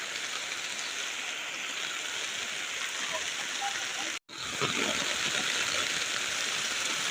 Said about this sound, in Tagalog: Grabe mas ang ulan no?